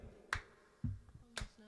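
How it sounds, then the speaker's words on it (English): Hands clap to keep the beat of a gospel song at a live church fellowship gathering. Two sharp claps land about a second apart, with a softer low thump between them and no voices. "clap your hands like this right here"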